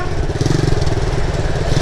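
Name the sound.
motorcycle engine revving as rider releases clutch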